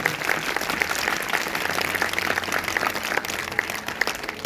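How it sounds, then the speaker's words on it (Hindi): A church congregation applauds loudly during a Hindi sermon, producing a dense, continuous roar of many hands clapping that holds steady and close for several seconds with no talking. "अगर आए हैं तो जोरदार तालियां बजाएंगे, जोरदार जोरदार।"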